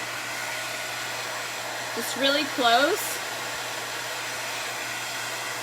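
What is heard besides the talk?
hair dryer running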